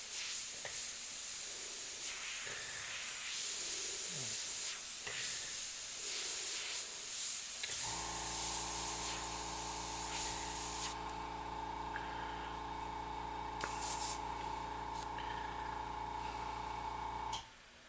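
An airbrush sprays paint in a steady, close hiss while shading eye sockets on a pirate-themed piece, joined midway by a constant compressor hum that runs to the end.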